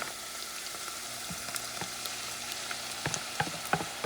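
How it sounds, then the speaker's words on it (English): Tomato sauce added to a hot pan of chickpeas sizzles steadily, with soft stirring scrapes and small crackling pops growing toward the end. "I'm going to add some of that tomato sauce."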